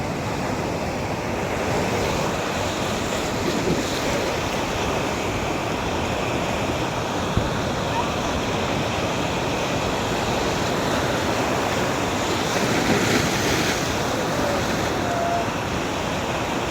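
Continuous roar of surf washing onto a beach resort shore in Naic, Cavite, steady and broad, with wind rushing across the microphone throughout.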